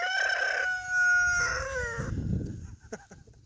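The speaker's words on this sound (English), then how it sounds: "Oh, rooster." A rooster crows loudly nearby in a farm field, a drawn-out cock-a-doodle-doo followed by low clucking and a few rustling knocks.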